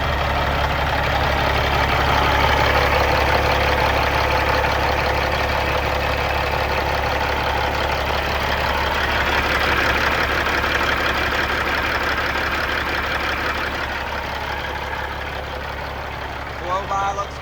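A Cat 3406E diesel engine in a 2017 Kenworth W900L glider truck idles steadily with a deep, even rumble and faint mechanical clatter, close by throughout.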